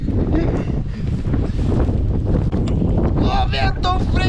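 Cold wind buffets a microphone outdoors at a canyon in Bom Jardim da Serra, Santa Catarina, a loud, constant roaring rumble that fills the whole stretch, with a brief voice near the end.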